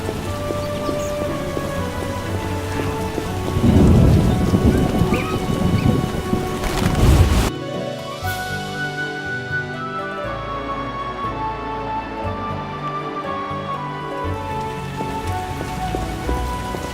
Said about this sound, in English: It'll probably rain until morning.